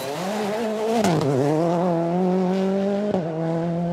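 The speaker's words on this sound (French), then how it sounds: "Le pilote effectue une sortie de route avec sa Citroën dans la 3e spéciale" A Citroën rally car on a special stage of the Rallye des Vosges in slippery conditions revs hard and slides, its engine note dipping and climbing with a sharp knock near the end, close and loud.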